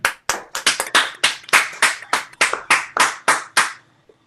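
A small audience claps to welcome a performer at a church coffeehouse music livestream, the claps sharp, close and irregular, about a dozen distinct claps swelling and then tapering to a final stray one.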